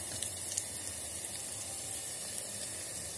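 Onion frying in a pan while bhindi masala is cooked in an electric kettle, a steady close sizzle and hiss with faint pops, continuous throughout, with no talking.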